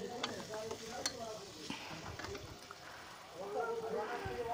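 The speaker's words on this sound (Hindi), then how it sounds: "अच्छे तरीके से भुन गया है हमारा पूरा मसाला, देखिए। बाम भी फ्राई हो चुकी है।" Bam fish (eel) fries in masala for biryani. The sizzle is soft, with stirring scrapes and clinks of a spoon, and a voice talks over it.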